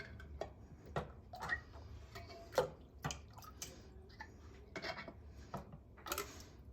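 Metal canning lids set onto glass jars with a lid lifter, a quiet irregular series of light clinks and taps spread across several seconds, close by and with no talking.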